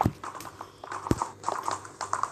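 Horse hooves clop in the video game Ertugrul Ghazi, with irregular galloping thuds over a busy background of game sound and no voices.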